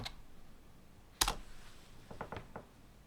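A command is typed on a computer keyboard in a quiet room: one sharp, louder keystroke, then a quick run of four lighter clicks about a second later.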